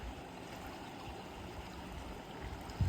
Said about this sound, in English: What an awesome creek.